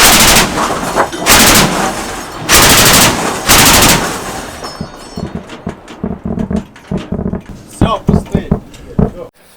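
An anti-aircraft gun hammers out long, loud sustained bursts during a night engagement, followed by shorter irregular rapid shots and bangs tapering off, with voices nearby.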